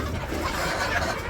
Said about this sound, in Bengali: তো আমরা মুরগি পালতেছি